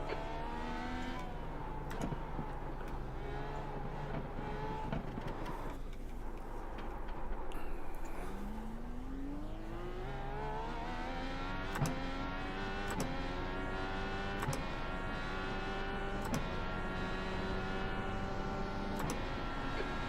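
An IndyCar engine in iRacing at the Long Beach street circuit drones loudly and continuously, its pitch rising and falling through repeated upshifts and downshifts, with occasional sharp clicks over the steady roar.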